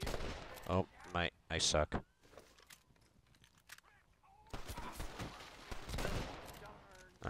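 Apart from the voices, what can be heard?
gunfire in the video game Red Dead Redemption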